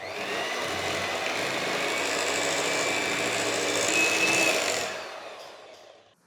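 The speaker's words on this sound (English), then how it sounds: "We're going to mix this together now until it thickens up." Electric hand mixer whisking double cream in a bowl until it thickens, a steady close whirring motor hum lasting several seconds before winding down at the end.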